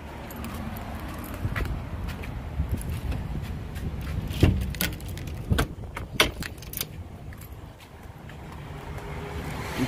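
Car ride with a rumbling engine and road noise inside the cabin, broken by scattered clicks, knocks and rattles of keys and fittings as the car moves.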